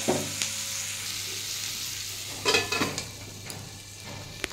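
Onion and tomato sizzle and fry steadily in a pan while cooking a bitter gourd curry, a soft continuous crackle with a few louder stirring scrapes and clinks near the middle.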